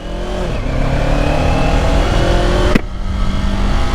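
A 2024 Kawasaki Ninja 500 SE parallel-twin motorcycle with a Yoshimura AT2 full exhaust system rumbles and revs loud and close, its pitch climbing steadily before a sharp click as it shifts and keeps pulling.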